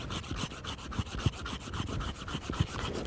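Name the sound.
folding hand saw cutting a small wild olive tree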